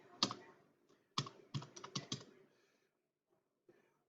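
A few sharp, close keystrokes tapped on a computer keyboard in a quick uneven burst, then a single faint tap after a pause.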